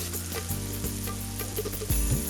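Tomatoes and paneer fry together in a pan for a butter paneer masala gravy, producing a continuous moderate sizzle with occasional stirring scrapes, heard up close with no one talking.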